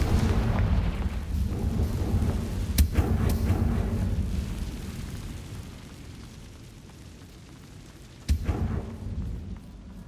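A Confringo fire spell blasting in Hogwarts Legacy, a deep rumbling explosion with sharp cracks that fades into a low roar, then a second burst near the end.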